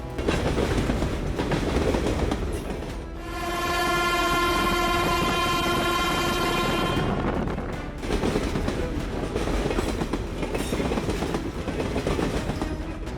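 A train rushes along the tracks with loud, close rumbling and rattling, and a long horn blast sounds in the middle before the roar of the passing cars continues.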